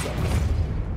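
Depulsor force spell striking in Hogwarts Legacy, a brief heavy low boom with a rumbling impact that fades out over about a second.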